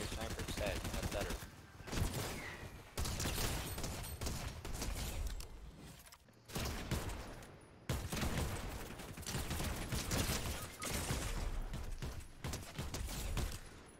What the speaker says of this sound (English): someone's firing at us